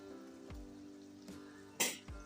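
Grated tomatoes hit hot oil for a Kathiawadi garlic chutney, giving a soft, steady crackling sizzle with a few sharper spits and pops rising above it, heard close with no talking.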